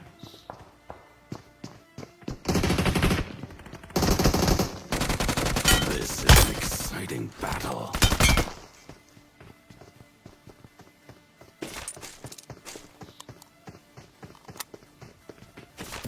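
Dense bursts of automatic gunfire from a battle royale shooter, loud sustained volleys over several seconds, then scattered shots and rapid footsteps trailing off into lighter clatter.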